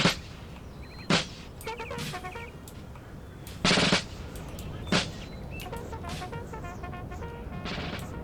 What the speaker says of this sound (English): Can you hear that? That's guns moving.